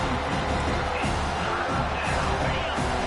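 A video game stadium crowd at a Penn State college football game roars in a steady, dense wash of cheering and noise, loud and continuous throughout.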